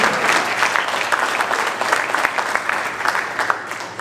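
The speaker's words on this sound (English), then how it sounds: "So give yourselves a big round of applause." A crowd applauds at the opening ceremony of the African seniors squash championships, continuous dense clapping that swells and gradually tapers off.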